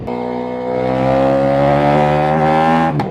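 Car engine revving on a Pikes Peak drive, a loud, steady, rich harmonic tone rising slightly in pitch and then cutting off abruptly near the end.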